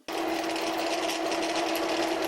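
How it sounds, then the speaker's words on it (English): A power drill boring through metal while making a tool holder for a Dremel-style mini grinder, sounding rough and unpleasant: a steady, loud, continuous whine with a strong droning tone that starts abruptly and holds without pause. "Now I'm gonna try a smaller drill first, because this sounds, well, terrible"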